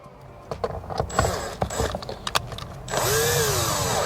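Power drill tightening a bolt on a subwoofer bracket in a C8 Corvette footwell, heard as short bursts of the motor with clicks and knocks, then a sustained whine that rises in pitch at the end.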